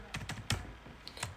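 Quick irregular clatter of computer keys being typed, a handful of close, crisp keystrokes in a short burst while code for an Arduino circuit simulation is written, with no talking.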